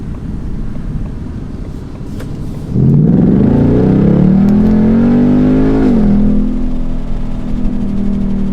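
A Ford Mustang GT with a 10-speed automatic rumbles at idle, then roars as it accelerates, pitch climbing steadily before shifting and settling into a loud, close drone.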